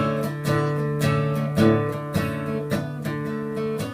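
Guitar plays a steady repeating pattern on the open D (4th) string, plucked rhythmically with a bouncing alternation between two pitches.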